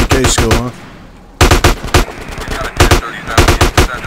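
AK-47 fire in the video game GTA San Andreas comes in loud, close bursts of rapid shots, separated by a short quiet gap, with more scattered volleys following.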